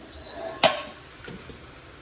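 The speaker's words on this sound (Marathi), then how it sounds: "ही सकाळची भांडी माझी" Kitchen dishes and pots clink together in a home kitchen: one sharp metallic clank followed by a couple of lighter clinks, fairly quiet and close, with no talking.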